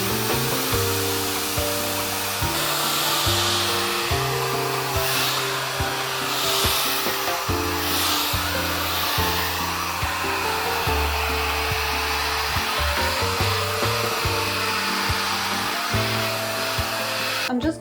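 A hair dryer with a diffuser attachment hovers over curly hair on a steady heat and airflow setting, making a continuous loud whooshing roar throughout with a low musical backing underneath.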